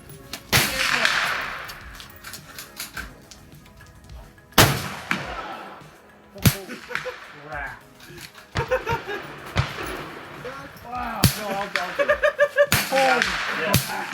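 Shotgun firing slugs at a rifle range, several loud sharp blasts spread out in sequence, close and echoing, with people talking and laughing between shots.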